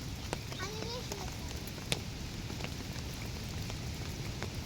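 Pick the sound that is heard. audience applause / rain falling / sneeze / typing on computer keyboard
rain falling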